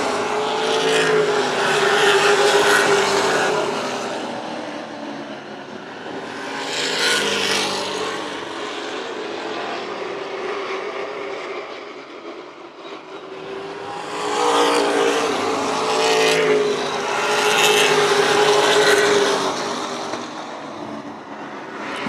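Race cars in the WESCAR 100 at Hythe Motor Speedway roar down the straightaway nose to tail, engine noise swelling and fading as packs pass close by, loud and sustained with no talk.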